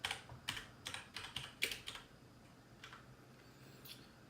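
Typing on a computer keyboard during phone flashing work: a quick burst of close, crisp key clicks, then a pause and a few scattered, separate taps, quiet and isolated with no voices.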